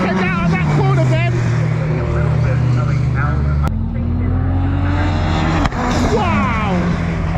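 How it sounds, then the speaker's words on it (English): A Noble race car corners hard at Anglesey during time attack qualifying, its engine droning loud and steady while the back end slides out, with an excited commentator talking over it throughout. "look at the Noble. Getting the back end out of that corner, Ben."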